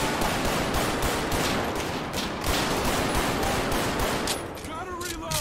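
A police officer's gun fires in GTA 5 with the LSPDFR highway patrol mod, a dense continuous barrage of shots under a loud, busy mix, with a few higher tones near the end.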